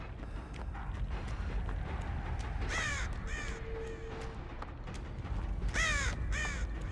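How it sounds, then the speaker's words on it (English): Crows caw in the horror game Dead by Daylight, two bursts of harsh, clustered caws, the first around the middle and a louder second near the end, over a low ambient wind-like drone. "Maybe I wasn't the one who disturbed those crows."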